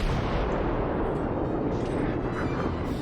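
Naval guns fire nonstop during a warship battle in World of Warships, a dense, loud rumbling wall of artillery blasts and explosions with no pauses.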